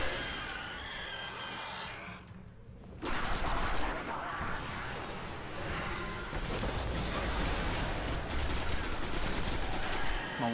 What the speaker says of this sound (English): Let me see if I can shoot him with these bombs.